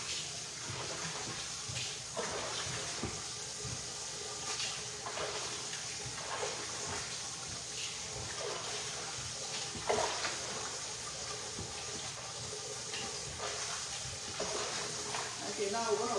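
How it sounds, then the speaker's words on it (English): Water runs steadily from a tap as meat is washed a second time in a heavy pot, a continuous splashing wash with soft clunks, a voice talking over it. "I'm washing my meat for the second time."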